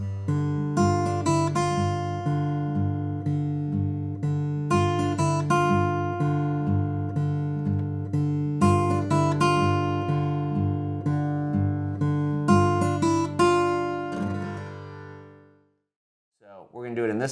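A plucked acoustic guitar plays a steady fingerpicked pattern of repeating phrases, clear and close, then stops briefly before strumming again.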